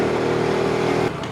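A motorcycle ridden standing up on a mountain road trip in Nepal, its engine a steady close drone that drops in pitch near the end.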